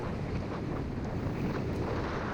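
Headwind during a Cat 4 road circuit race, roaring as continuous loud, broadband wind buffeting against a cyclist's microphone for the full short stretch, with no voices.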